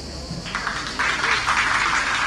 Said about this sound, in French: Rappelez-vous de ces applaudissements.